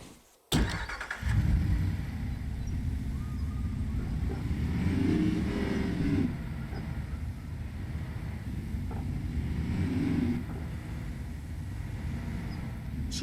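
Summoned car in Way of the Hunter 2 starting with a sudden burst, then driving with a steady engine drone that swells twice as it revs, close and unbroken with no talk.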